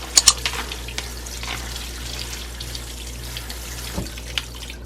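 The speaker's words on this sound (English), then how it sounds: "I do rinse them in warm water." Warm tap water pours from a faucet as cooked noodles are rinsed in a sink, a steady close-up splashing stream opened by a couple of sharp clanks of a pot or utensil, with no talk.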